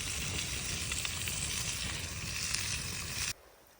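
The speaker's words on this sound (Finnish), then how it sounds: "Täällä kokataan vähän lohta ja katkarapupastaa." Salmon and shrimp pasta sizzles steadily in a hot pan, a close, dense frying hiss that runs for several seconds and then cuts off abruptly, leaving quiet background.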